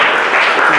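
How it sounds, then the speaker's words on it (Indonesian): Applause for a student group in a classroom, dense steady clapping filling the whole short moment without a break. "tepuk tangan untuk kelompok 7"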